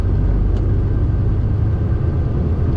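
A truck engine drones steadily while driving, a loud, constant low rumble heard from inside the cab, with no speech over it.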